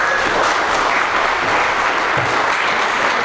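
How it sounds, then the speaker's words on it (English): An audience at a gaming-industry panel evening honoring game designer Eugene Jarvis gives a big round of applause, dense and evenly loud from start to finish. "Give a big hand for him."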